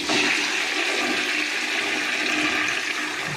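A toilet cistern is flushed to drain its tank during a fill-valve repair, a loud, close, steady rush of water pouring down without pause for the whole stretch.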